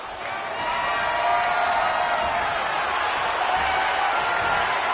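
Wrestling crowd in the WWE 2K25 video game roars with steady, dense cheering that swells after the first second and holds loud and continuous throughout, with a faint voice mixed in.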